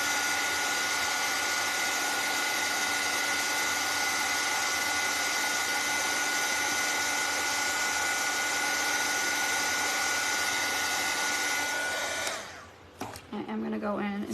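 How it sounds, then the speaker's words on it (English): A handheld dryer blows hot air to dry green paint on a gingerbread decoration, a loud steady whirring roar held for about twelve seconds before it cuts off abruptly into brief handling clatter. "I'm gonna hit this with the dryer because that green's not dry yet"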